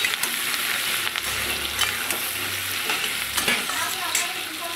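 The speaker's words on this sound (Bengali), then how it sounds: "পেঁয়াজগুলো দিয়ে আরেকটু নেড়ে নিতে হবে।" Diced onions frying and sizzling in a pan while a spoon stirs them, a steady broadband sizzle with faint scraping strokes throughout, fairly close and without talk.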